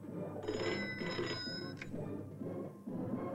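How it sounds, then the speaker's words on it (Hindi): An old-style telephone bell rings in repeated bursts, moderately loud against a faint background, with no voices over it. "ठाकुर साहब आपका फोन"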